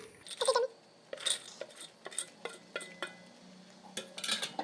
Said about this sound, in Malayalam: ഇനി നമുക്ക് ഈ വറുത്ത് വെച്ച സംഭവങ്ങളെല്ലാം ഇങ്ങനെ ഇട്ട് കൊടുക്കാം.